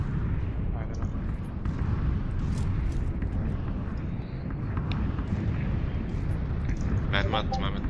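Gunfire and explosions in the battle-royale video game PlayerUnknown's Battlegrounds, sharp cracks and booms over a loud rumbling background while players talk throughout.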